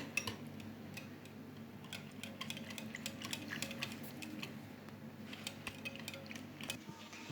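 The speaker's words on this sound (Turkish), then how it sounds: "Şimdi bunları da karıştıralım." Green lentils and fine bulgur are stirred in a pot, with a spoon clinking and scraping against the metal in quick irregular taps over a quiet kitchen background.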